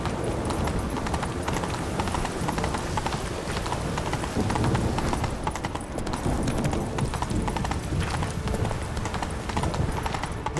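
Roach the horse trots in The Witcher 3 with a steady, rhythmic clip-clop of hooves, close and continuous under a dense game soundscape, with brief voices at moments.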